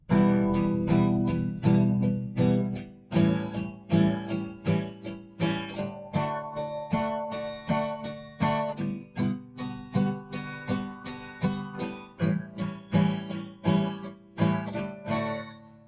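An acoustic guitar strummed steadily in continuous down-and-up strokes, an even rhythmic pulse of full chords, close and moderately loud, with no talking.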